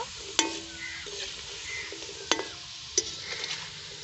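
Homemade cashew biscuits frying in a pan, turned over and over to brown: a quiet sizzle of oil under three sharp clinks of a utensil against the pan, with a few lighter scrapes between.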